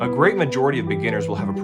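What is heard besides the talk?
No everyday noises stand out.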